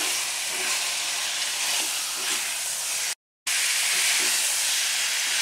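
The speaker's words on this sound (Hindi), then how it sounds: "अब इसमें हम मटन डाल देंगे। और इसको हम रोस्ट करेंगे थोड़ा सा" Mutton stir-frying and roasting in a kadhai for Punjabi kadhai mutton gives a steady, loud, close sizzle and hiss with faint stirring scrapes, broken by a brief dropout partway through.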